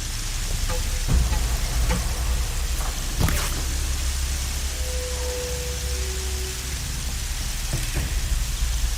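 Steady rain falls in Horizon Zero Dawn as a dense, hissing wash with scattered louder drops and a few brief sharp taps. A faint low tonal sound drifts through the middle.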